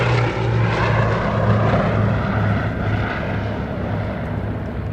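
A Bristol Blenheim twin-engine propeller bomber flies past at an airshow at Duxford, its steady loud engine drone filling all five seconds with a throbbing low hum and no voices.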